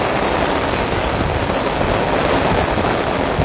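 Steady, dense rainfall in Kuala Baru, Aceh Singkil hisses continuously, loud and close, with no voices and no breaks.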